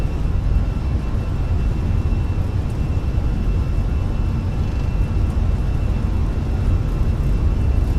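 Twin CFM engines of an Airbus A320 at takeoff thrust in Microsoft Flight Simulator, a steady, dense broadband roar with a deep low rumble, constant and loud throughout, no talking.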